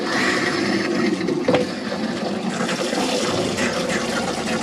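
Water runs steadily from the tap of a Chausson Flash 716 motorhome's water system, a continuous close hiss that holds for the whole stretch with a brief splashy bump partway through.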